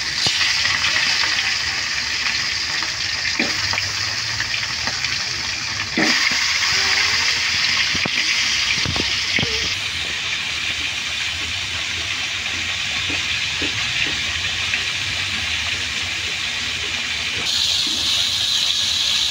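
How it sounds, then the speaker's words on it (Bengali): Rohu fish heads fry in a little oil on a flat tawa, giving a loud, broad, steady hiss for the whole stretch, broken now and then by a few spattering pops and clinks. "এখন তাওয়ায় অল্প তেল দিয়ে মাছের মাথাগুলো ভালো মতো ভেজে নেব।"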